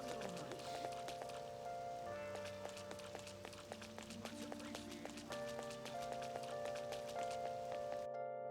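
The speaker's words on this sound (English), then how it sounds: "It's raining?" Soft, constant patter of rain in Persona 5 Royal runs beneath gentle melodic game music, with sustained tones shifting now and then, all fairly quiet.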